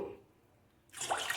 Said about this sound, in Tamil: இந்த மீடியம் டம்ளரில் 4 glasses ஆஃப் வாட்டர் விடுறோம்.